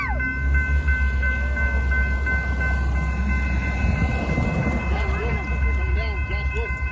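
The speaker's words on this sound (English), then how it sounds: "look out for the train" A train rolls through a level crossing at S 33rd W Ave in Tulsa, Oklahoma, with a low steady rumble, crossing bells ringing continuously above it, and voices talking over the scene.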